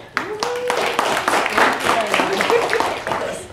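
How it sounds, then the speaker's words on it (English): Audience applause after a reading at a community event, a steady patter of clapping hands running throughout at moderate volume, with voices murmuring underneath. "Applause."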